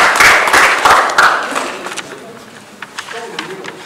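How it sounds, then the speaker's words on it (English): An audience claps for a speaker coming on stage, a burst of dense applause that fades quickly into scattered claps and room noise. "So please a round of applause for him again as he comes on"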